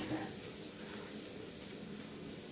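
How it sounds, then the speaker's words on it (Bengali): Garlic and onion fry in a pan, a faint, steady sizzle and crackle that runs throughout without a break. "রসুন আর পেঁয়াজটা একটু ভালো করে ভেজে নেব।"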